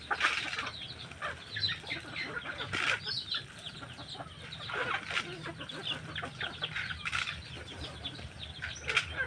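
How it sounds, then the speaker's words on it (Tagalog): Pet chickens being fed outdoors cluck and chatter continuously at close range, with scattered sharper squawks and wing flaps over a soft rustling background. "nagpapakain na si William ng mga alaga niyang manok."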